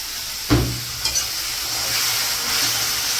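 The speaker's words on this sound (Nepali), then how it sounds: "अलिकति भुट्ने हो, बेसी भुट्नु हुँदैन।" Masala frying in a pan for chhole, a soft steady sizzle broken by a sharp metal stirring knock near the start and a few lighter scrapes.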